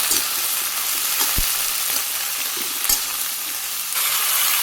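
Green chillies with cumin, salt, turmeric and chilli powder fry in oil in a home kitchen. A loud, steady hissing sizzle, broken by a few sharp scraping stirs.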